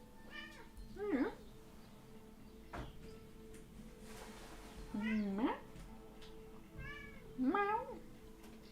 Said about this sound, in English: He wants to meow, but he doesn't want to come here.